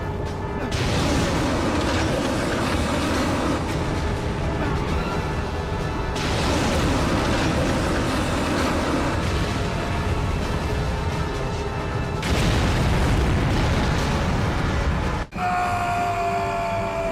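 A wire-guided rocket in the game 007 Agent Under Fire bursts into a loud, sustained rumbling roar of explosion and mechanical noise. The roar surges in broad waves for around fifteen seconds, then cuts off sharply and leaves a quieter tonal hum.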